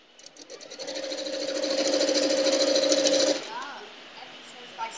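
A sewing machine stitches rail fence quilt pieces in a steady, close whirring run that builds over about three seconds and then stops, leaving quiet room noise.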